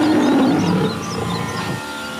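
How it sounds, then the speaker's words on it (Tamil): A tiger's deep roar rumbles loud and close, a sustained growling call that swells at the start and then trails off into a lower, rougher tail, heard alone without talk. "புலி உருமல் கேட்கும் திசையை இலக்காக வைத்து அதன் மீது அம்பு விடுங்கள்."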